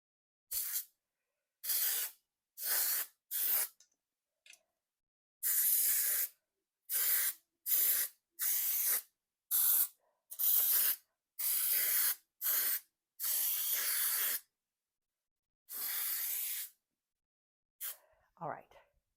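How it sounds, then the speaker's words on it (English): Baker's Joy baking spray hisses onto the sides of cake pans in a long series of short, close, sharp bursts separated by brief silences. "Now I am going to spray the sides of the pans with Baker's Joy, just to make sure that our cake doesn't stick."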